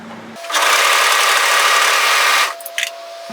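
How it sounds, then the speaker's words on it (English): Overlocker serging a short seam on a knit raglan top: a single loud, steady machine whir lasting about two seconds, starting and stopping abruptly, followed by a couple of light clicks. "we're going to overlock serge that into place. It's only a very short seam here."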